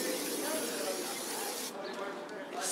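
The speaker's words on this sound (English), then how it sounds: "So now we're going to the disc brake cleaner." Brake disc cleaner sprayed from an aerosol can onto the brake discs of a Yamaha FJR1300 motorbike, a steady close hiss for most of the time that briefly thins near the end before returning.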